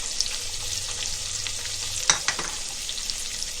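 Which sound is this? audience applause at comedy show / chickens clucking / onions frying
onions frying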